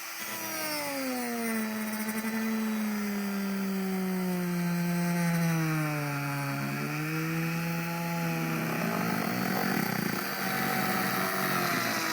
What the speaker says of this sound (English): I'm going to take my Dremel and cut around here so that I can slide it under and drain the fluids from the radiator into here